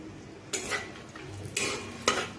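Whole cardamom, cinnamon and cloves are stirred in a cooking pan, giving three separate scraping clinks of a utensil against metal amid faint quiet in between.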